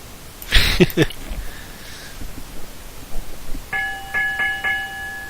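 A ship's bell struck in a quick cluster of three clear metallic rings near the end, from the video game Broken Sword 2, after earlier clattering knocks and rustling in the scene.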